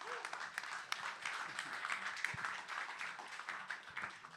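A small audience at a bar talk applauds, scattered clapping that is fairly faint and thin, with a few sharper individual claps standing out over a low room murmur.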